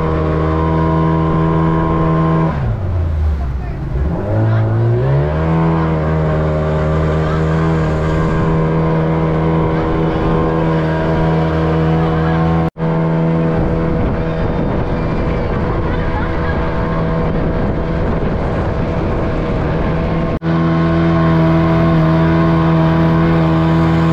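A motorboat engine drones loud and steady during a ride on the Aganashini river, dipping and rising in pitch early on as the throttle changes, with brief thumps. A voice talks over it.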